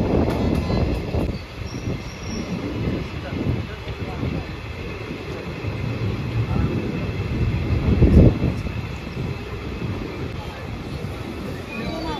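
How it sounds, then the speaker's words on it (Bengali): A fast-running passenger train heard from beside an open carriage door: a steady, close rumble and rattle of wheels on the rails, swelling louder near the end. "দারুণ একদম সাঁটিয়ে ট্রেন চলছে"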